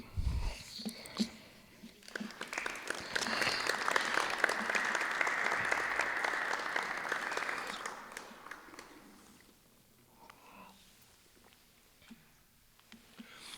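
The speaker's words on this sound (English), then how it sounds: "Thank you for the applause." Applause from an audience at a poetry mixer rises from about two seconds, swells and holds steady for several seconds, then tapers off into near silence with faint murmurs.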